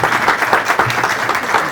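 Loud round of applause from an audience at a school declamation contest, dense steady clapping filling the short stretch without any voices over it.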